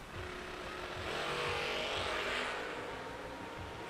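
A Diamond Engine Oldsmobile drag racing car roars past at a drag strip, its engine noise swelling to a broad peak and then fading, heard from a moderate distance.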